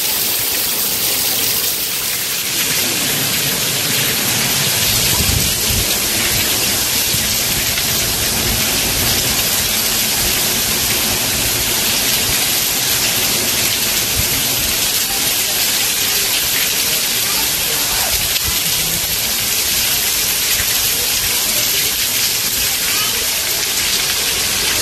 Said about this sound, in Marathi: पावसाने एवढा धुमाकूळ घातलाय. खूप पाऊस आहे सकाळपासून आज.